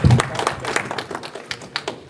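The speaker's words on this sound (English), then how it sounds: "Give him a round of applause also, please" A small workshop audience gives a short round of applause, a dense patter of clapping that holds steady throughout, with a faint murmur underneath.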